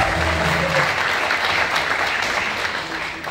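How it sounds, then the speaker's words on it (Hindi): Sustained, dense audience applause fills a press conference for a comedy talk show, holding steady and loud throughout before easing slightly near the end. "जोरदार तालियां हो जाए"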